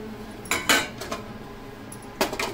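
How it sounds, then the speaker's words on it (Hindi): Chopped mango pieces drop into a mixer jar with a few sharp clinks and clatters against the container, separated by brief pauses. "मिक्सी जार में डालेंगे हम कटे हुए आम।"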